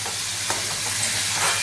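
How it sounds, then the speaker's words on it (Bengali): Egg curry masala sizzles and is stirred in a pan after a splash of water, a steady close frying hiss with faint scraping strokes and no talk. "কষে নেব ভালোভাবে 1 মিনিট সময় নিয়ে।"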